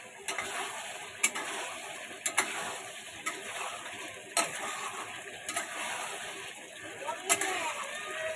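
Potatoes go into a pan of frying chicken for a home-cooked chicken jhol with bottle gourd, giving a soft sizzle broken by repeated sharp scraping clicks of a stirring spoon, with a voice talking over it.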